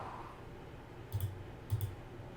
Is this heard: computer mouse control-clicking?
yes